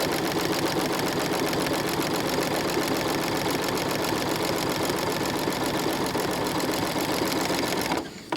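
A sewing machine runs steadily and loudly, stitching quilt strips of white and colored fabric in one continuous burst before stopping abruptly near the end.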